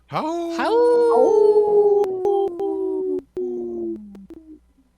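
A person imitates a wolf howl in a long, rising and falling tonal call that trails off over about five seconds, loud and close, with no other sound behind it.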